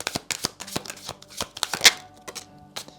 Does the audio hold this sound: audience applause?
no